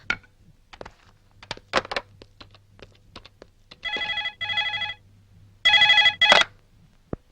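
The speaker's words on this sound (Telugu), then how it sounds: "నేను ఒక ఫోన్ చేసుకుంటాను ప్లీజ్ సార్" Telephone ringing on an outgoing call made from a phone lent to a prisoner in a Telugu film scene: a few soft clicks, then two loud, close trilling ring bursts separated by a short pause.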